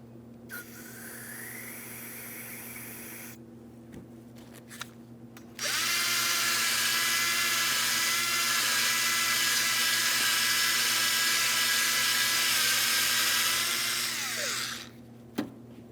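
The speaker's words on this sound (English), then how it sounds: "I'm going to be using parts cleaner inside of each one of my caliper slider pin ports" A bore brush with parts cleaner scrubs the caliper slider pin ports during a rear brake job on a 2007-2014 Ford Edge: a short whir, a pause, then a steady, loud, high whine for about nine seconds that cuts off.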